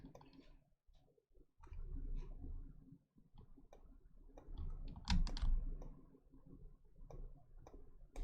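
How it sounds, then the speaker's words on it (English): Someone types on a computer keyboard during a game development stream. Quiet irregular key clicks and taps come in loose bursts, close and soft, with brief pauses between runs. "hearing keyboard noise, but some people get real joy out of keyboard noises"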